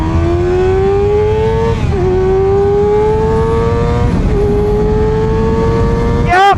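A Kawasaki ZX6R sport motorcycle engine revs hard and climbs through the gears, its high whine rising in repeated pulls with brief drops between shifts.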